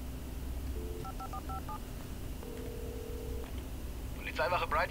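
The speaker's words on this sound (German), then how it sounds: "das Telefon bedienen." Telephone keypad tones in the Alan Wake video game: a short burst of DTMF dialing beeps, then a steady ringing tone, over a low background hum, ending in a brief clatter.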